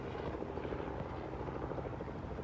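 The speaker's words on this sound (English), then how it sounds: "All these cars and helicopters." A helicopter passes overhead at a distance, its steady rotor chop and engine drone filling the background with an even, unbroken hum.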